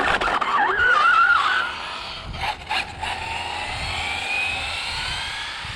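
An Arrma Limitless 6s RC car screams past on a road during a speed run, a high whining motor rising and then fading into a distant roar with a faint skid.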